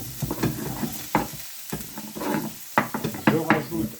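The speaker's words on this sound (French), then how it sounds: "Voilà, mes oignons qui commencent à revenir." Onions fry in a pan as a spoon stirs them, giving irregular scraping clatters over a soft sizzle in a home kitchen, close and fairly loud, with no talking.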